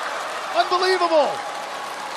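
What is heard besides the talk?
hometown crowd applauding at curling match in Suzhou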